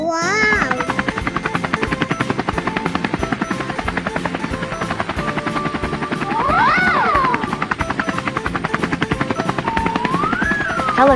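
Cartoon helicopter in a children's colour-learning animation: a loud, steady chopping rotor runs without pause for the whole stretch, with rising and falling tonal sweeps over it.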